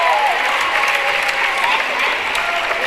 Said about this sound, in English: You can see the Jennings County crowd cheering for him.